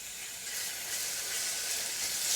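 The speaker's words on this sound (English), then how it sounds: "let the beef go in there and get that searing" Beef sears in a hot skillet with olive oil, a close, steady sizzle and crackle that swells slightly toward the end.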